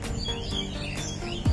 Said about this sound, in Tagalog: Ayan yung mga ibon doon.